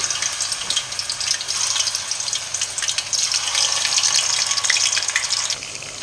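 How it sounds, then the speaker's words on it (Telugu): Mutton keema balls with tender fenugreek leaves sizzle loudly in hot oil on a medium flame, a steady, close, crackling hiss that swells slightly as more balls go in. "మనం తీసుకున్న వంటలన్నీ ఇలా ఒక్కొక్కటిగా ఆయిల్లో వేసేసేయాలి"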